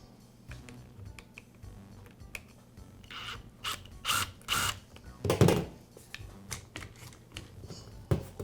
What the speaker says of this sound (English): I'll begin by removing the rear cover from the tool.